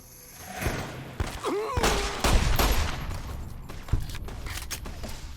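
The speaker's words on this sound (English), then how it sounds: "Who's shooting me?" Gunfire in a video game, a mix of bursts and single shots with sharp thuds spread across a few seconds, fairly close and loud, with a voice calling out briefly.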